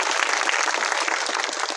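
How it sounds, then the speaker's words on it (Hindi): Dense, sustained applause from a crowd at an outdoor political rally for saving the constitution, steady and loud throughout with no gaps. "सबके लिए जोरदार तालियां होनी चाहिए"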